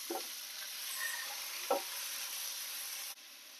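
Meat dropped into a hot pan of oil with a few garlic cloves sizzles steadily at moderate volume, with a couple of brief stirring knocks and no talking.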